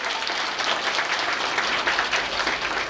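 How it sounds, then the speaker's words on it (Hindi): A hall audience applauds in welcome at a Vaishnav community gathering in Ahmedabad, producing dense, steady clapping from many hands that holds at full strength throughout, with no pauses or talking. "एक बार जोरदार तालियों से इनका स्वागत करें"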